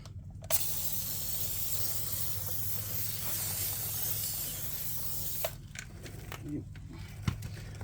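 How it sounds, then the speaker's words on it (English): A continuous close spray of cleaner hisses around a GR Corolla's wheel wells and mud flaps for about five seconds, then stops, leaving a few clicks and light handling noises. "Let's also spray around the wheel wells and mud flaps."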